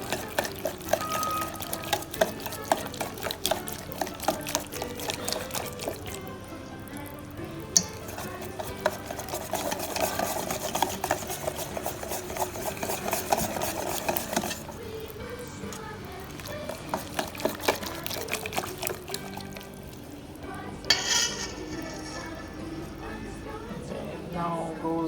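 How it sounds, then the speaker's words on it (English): Date and walnut cake mixture being beaten in a bowl, a continuous rhythmic scraping and clinking of utensil against bowl that runs steadily for a long stretch at moderate loudness. "I'm going to beat the mixture well"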